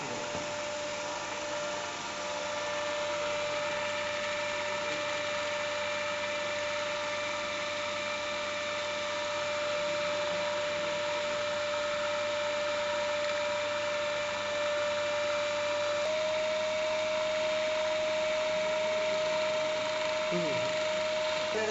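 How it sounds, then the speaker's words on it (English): A DC motor drives a shunt generator in a lab test, giving a steady close electrical whine and hum that holds throughout, with a tone that rises slightly as the machine speeds up to 1500 RPM; someone talks over it. "Now adjust the motor field rheostat till the rated speed of the motor, that is 1500 RPM is up."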